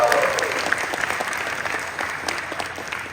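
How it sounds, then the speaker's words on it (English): Audience applause fills a panel room at San Diego Comic-Con 2023 for a Voltes V Legacy panel, steady dense clapping from a large crowd that tapers slightly over a few seconds. "Let's give him a big round of applause."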